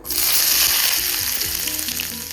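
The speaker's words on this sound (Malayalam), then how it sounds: "ഈ ഒരു സെയിം എണ്ണയിലേക്ക് നമുക്ക് അരിഞ്ഞു വെച്ചിട്ടുള്ള കൊച്ചുള്ളി ചേർക്കാം" Chopped small shallots hit hot oil that was already used for frying, for an Onam sadya inji curry, bursting into a loud, close, steady sizzle that slowly settles, with no voices.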